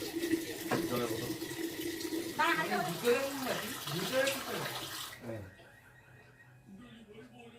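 Water runs and splashes steadily into plastic water bottles for several seconds, then cuts off, leaving a quieter room with faint voices and low background noise.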